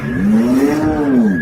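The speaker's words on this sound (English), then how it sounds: "He took the McLaren race car to the Dunkin' Donuts." A McLaren race car engine revs up and then eases back down in one smooth, loud swell, close by with no talking.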